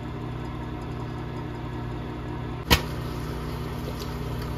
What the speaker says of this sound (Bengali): এই দেখুন পপিং এর আওয়াজ হচ্ছে